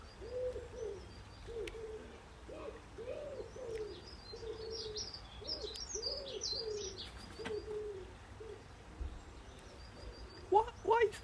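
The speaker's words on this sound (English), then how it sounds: "You can always tell wood pigeons because they end mid-bar. Really weird. They coo in like triplets" A wood pigeon coos outdoors in repeated soft phrases of hoarse, rhythmic notes, moderately distant over a low background hum, with a few brief higher chirps near the end.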